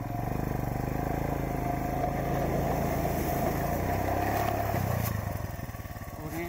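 A motorcycle engine chugs loudly and close by while the rider struggles to restart it in the cold on an icy Himalayan road in Mustang, Nepal. The rough, pulsing churn runs continuously, then eases slightly near the end.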